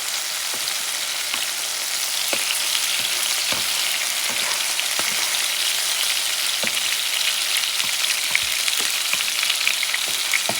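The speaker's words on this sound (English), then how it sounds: "Let it saute." Sea bass sautéing in coconut oil in a pan gives a steady, close sizzle with occasional sharp pops and crackles, continuous and unaccompanied by talk.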